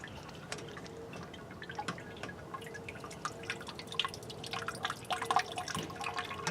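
The last bit of liquid from a Vienna lager homebrew drips into a container, quiet and close, a steady run of small irregular drops and trickles that thicken slightly toward the end.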